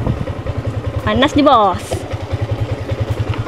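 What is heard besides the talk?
Yamaha Y16ZR motorcycle engine running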